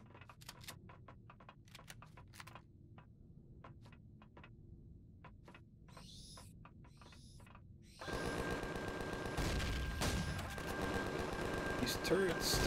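Turret gunfire in the video game Empyrion during a fight in abandoned mine dungeons: sharp, sparse shots crack out over talk, then give way to a louder, dense burst of rapid fire and explosions.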